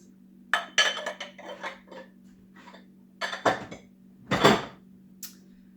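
A spoon stirs lukewarm milk and yeast in a bowl, several separate clinks and scrapes against the bowl in short bursts over a faint steady hum.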